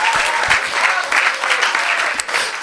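A church congregation claps loudly and steadily during a French-language sermon, dense sustained applause filling the room from start to end, with faint voices mixed in underneath.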